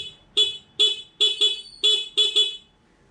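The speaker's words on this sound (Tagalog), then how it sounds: "testing ko muna yung busina kung magbiblink yung fog light natin" A car horn, wired in with a passing fog light, is tested in seven short, loud honks in quick succession, roughly evenly spaced.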